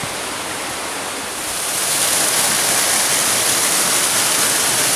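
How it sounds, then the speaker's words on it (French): A waterfall heard from its foot roars as a dense, steady rush of falling water that grows slightly louder partway through, with no talk over it. "On est au pied de la cascade."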